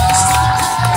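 A fairground crowd at a martial arts show cheers and whoops loudly in one short, continuous burst of noise.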